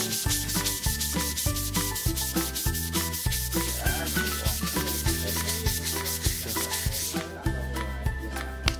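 Sandpaper rubs over dried Biovarnish water-based wood filler on wood, making steady, repeated scratchy strokes in a regular rhythm beneath loud background music.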